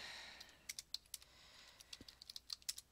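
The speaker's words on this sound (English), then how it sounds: "Type my name." Typing on a computer keyboard in a classroom keyboarding lesson: quiet, irregular key clicks in small bursts, close and soft, with no talking.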